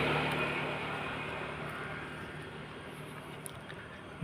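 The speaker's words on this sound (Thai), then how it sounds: "รถยนต์ขี่ผ่านครับ" A car drives past on a long bridge at night, a broad steady roar that slowly fades as it moves away, with no talking.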